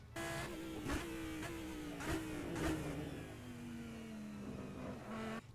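GT3 race car at Spa-Francorchamps in Assetto Corsa, the engine note sweeping through shifting revs with brief sharp bursts as the throttle is blipped and the car gets out of shape, a continuous simulated engine drone.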